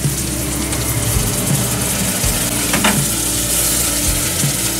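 Turmeric and chili spice paste fries in hot oil for a cauliflower masala, a steady close sizzle with occasional stirring scrapes throughout, no voices.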